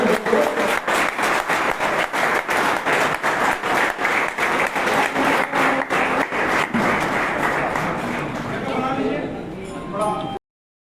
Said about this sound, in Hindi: एक बार जब जोरदार तालियां हो जाए